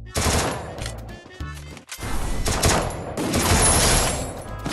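Rapid bursts of automatic gunfire in the Free Fire battle royale game, loud and close, firing in several dense volleys with brief pauses between them.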